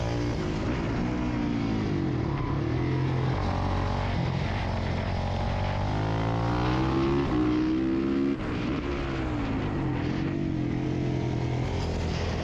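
A Kawasaki KX450 set up as a supermoto runs steadily on a paved track, its engine note climbing and dropping through gear changes and corners, continuous and fairly close, with no voices.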